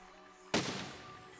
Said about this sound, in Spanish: ¡Un cañonazo!